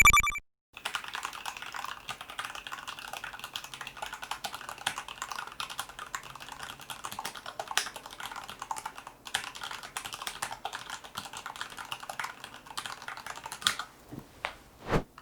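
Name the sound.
typing on Dygma Raise keyboard with Cherry MX Blue switches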